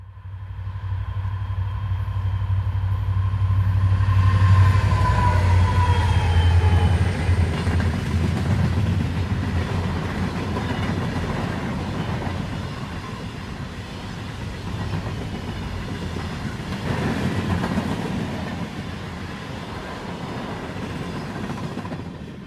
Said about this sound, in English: Q376 heads out of the tunnel, led by Conrail